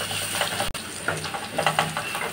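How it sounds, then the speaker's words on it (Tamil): Crushed shallots and garlic frying in hot oil in a pan, a steady close sizzle with irregular crackles and spatters, no talking. "நம்ம தட்டி வச்சுருக்க சின்ன வெங்காயம் பூண்டும் இது நல்லா ஃப்ரை பண்ணுங்க"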